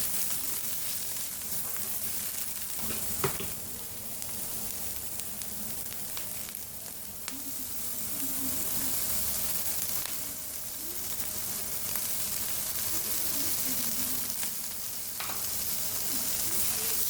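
Mushrooms sautéing in a frying pan, a quiet, steady sizzle lasting throughout with occasional sharp pops and stirring scrapes, heard close and alone.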